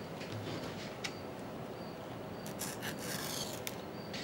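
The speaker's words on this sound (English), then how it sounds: "I'm going to lay my ruler right along this edge, about a quarter inch, and we're going to cut a bevel." A blade draws along a ruler to cut a quarter-inch bevel in foam board for a model Spitfire, a soft continuous scraping close by with a few light ticks, no talking.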